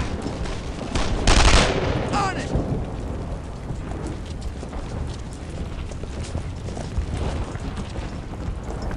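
Gunfire crackles through a battle in the World War II shooter Brothers in Arms: Earned in Blood, with a dense burst of shots early on and then continuous rumbling, noisy combat.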